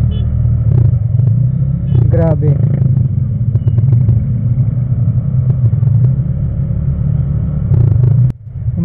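Heavy traffic on a highway toward Los Baños rumbles loud and steady throughout, with car and motorcycle engines close by and a brief clatter, while a voice speaks over it.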